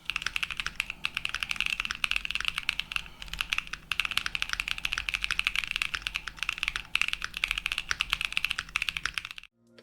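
Continuous clacky typing on a mechanical keyboard fitted with JWK switches and stock black KNC Keys jackets, a steady near rattle of keystrokes with no talking, ending abruptly.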